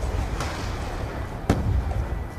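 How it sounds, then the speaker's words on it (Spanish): A grenade explodes in a first-person shooter match, a sharp loud blast with a second crack just before it, over steady rumbling battle noise. "muerto con granada"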